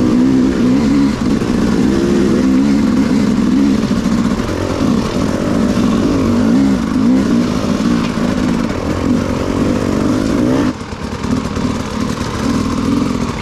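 An enduro motorcycle engine revs steadily and loudly throughout a beginner's off-road riding lesson, its tone wavering as the throttle rises and falls, with a brief dip near the end.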